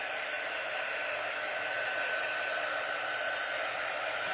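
A hair dryer blows steadily on a drying craft piece, a Highland cow door hanger, producing an even, close airy roar that holds unchanged throughout with no talking.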